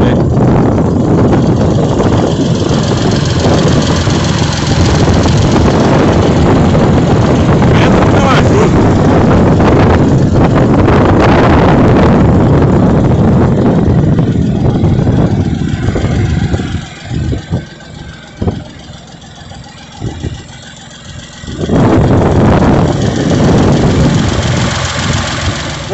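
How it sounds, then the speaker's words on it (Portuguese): A Massey Ferguson 4292 Xtra tractor engine rumbles continuously, loud, heavy and close, mixed with buffeting wind noise; it dips briefly near the end before resuming. "Chegar perto e fazer barulhinho no motor dele."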